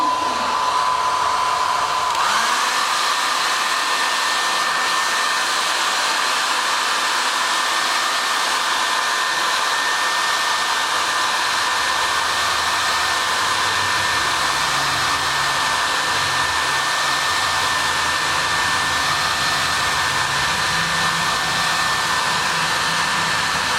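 A heat gun blows continuously for over twenty seconds, warming vinyl wrap on the fog light of a 2012 Mitsubishi Lancer GT, with a loud, steady airy roar and a faint high tone running underneath.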